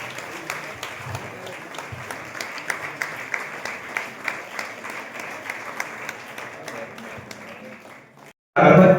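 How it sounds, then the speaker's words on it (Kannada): Steady applause from a crowd at a Jain temple donation ceremony in Teradal, sustained clapping for about eight seconds before a sudden loud burst at the end. "ಜೋರಾಗಿ ಚಪ್ಪಾಳೆಗಳಾಗಬೇಕು"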